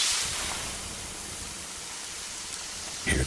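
Water poured onto 800-degree rocks in a sauna gives a steady, close hiss and sizzle of steam that fades slightly, with a brief sharper spatter near the end.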